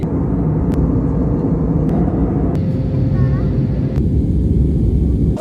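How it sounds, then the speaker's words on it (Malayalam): A loud, constant low engine roar fills the space from inside a passenger jet starting to taxi at Dubai airport, with a few sharp clicks over the drone. "ഫ്ലൈറ്റ് മൂവ് ആവാൻ തുടങ്ങി"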